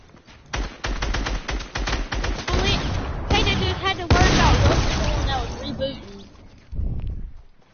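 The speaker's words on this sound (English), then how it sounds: "If they won't stop shooting at me" Rapid bursts of gunfire from Fortnite, loud and close, firing in quick repeated volleys, with players talking over the shooting and a final burst near the end.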